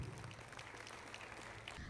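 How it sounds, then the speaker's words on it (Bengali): Audience clapping at a ceremony at Rabindra Bhavan, with the chief minister and guests on stage: a steady, dense patter of many hands at moderate distance, continuous and fairly faint throughout. "সবাই মিলে আসুন আমরা এই শুভ মুহূর্তের সাক্ষী থাকি করতালি দিয়ে"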